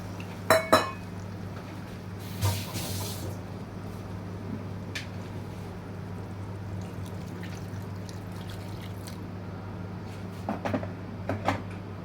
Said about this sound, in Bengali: এবার আমি এই জলটা দিয়ে দিচ্ছি এর মধ্যে।